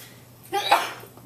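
A single sharp sneeze bursts out nearby, brief and loud against a quiet background.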